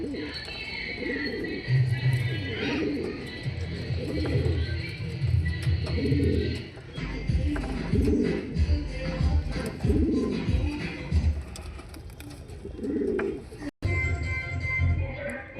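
Pigeons at a pigeon sale coo in repeated low, throaty phrases close by, with a voice talking over them much of the time.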